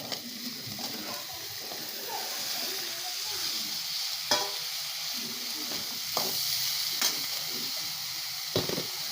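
Chopped ridge gourd hits a pan in a village kitchen and fries with a steady, soft sizzle, broken by a few sharp scrapes and stirring clatters, with no talk over it.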